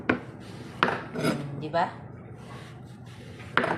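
Sharp kitchen knife cutting, giving a few crisp clicks and scrapes against a board, spaced irregularly, with a person talking between the cuts.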